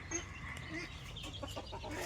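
Free-range country chickens on a farm clucking and calling in a steady, busy background murmur, with scattered short bird calls at moderate distance and no speech.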